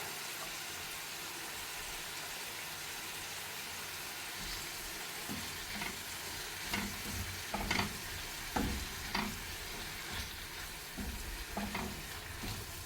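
Onions sizzle in a pan with salt, alongside beef cooked with chili, turmeric, fennel and coriander powder. A quiet, constant fry hiss is joined midway by sharp scraping and clattering stirs that grow busier toward the end.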